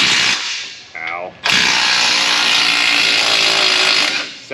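A power tool whirs loudly, pausing briefly near the start, while removing a bolt on the differential of a Ford F150 6.2 4x4; the steady, close grinding runs almost the whole time.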